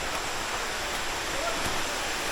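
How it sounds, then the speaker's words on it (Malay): Steady broadband rushing of a waterfall heard from an old hiking trail above the falls at Air Terjun Buntong in Malaysia, continuous and even, filling the clip with no other sounds standing out. "So air terjun tu belah kiri."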